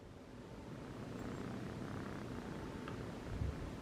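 A cat purrs close up in a steady, low rumbling drone that continues throughout, with a brief louder bump near the end.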